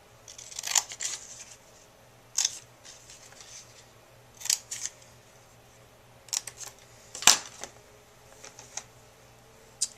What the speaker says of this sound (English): I'm just going to use the scissors for that.